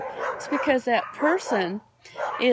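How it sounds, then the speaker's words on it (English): Dogs bark and yip somewhere outside, sitting low beneath a person talking steadily through most of the stretch. "pardon the dogs out there"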